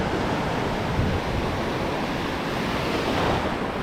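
Large sea waves surge at Calatagan during a fishing trip at low tide: a steady, loud, broad wash of surf, mixed with wind noise, and no talking.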